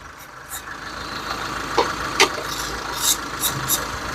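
A 2006 Mitsubishi engine idles with random misfires: a low, steady hum runs throughout, with a few sharp irregular ticks and pops heard close by.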